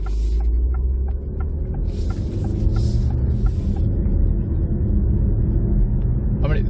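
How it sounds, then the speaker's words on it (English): A 2023 Alfa Romeo Tonale 1.3 PHEV Veloce drives along, its engine a steady low droning rumble heard from inside the cabin, with faint ticking clicks and a brief whoosh of road noise, no talk. "It's not the most dynamic sounding car I've ever driven. Certainly not the most dynamic sounding Alfa I've ever driven."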